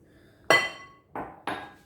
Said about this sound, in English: And I'm clanging glassware around. You hear that, right?